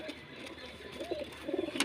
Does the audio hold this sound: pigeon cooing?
yes